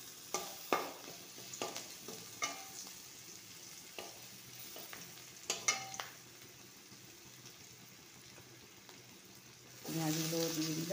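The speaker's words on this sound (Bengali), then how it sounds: "সেই রসুনটা আমি দিয়ে দিচ্ছি তেলের মধ্যে" Garlic sizzles in hot oil in a home kitchen while Bengali fish, potato and eggplant curry is prepared, with a steady frying hiss, scattered utensil clicks and stirring, swelling louder near the end as more ingredients hit the pan.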